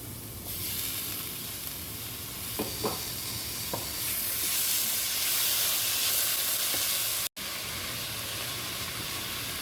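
Tomatoes frying in a spiced masala for a Kerala-style chicken curry, a steady loud sizzle and hiss with a few stirring scrapes, alone without talk.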